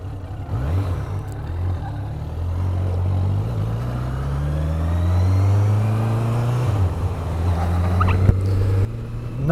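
A car hums steadily from inside during a test ride, its engine tone rising and falling through gear changes, with road rumble underneath and a brief sharp click near the end.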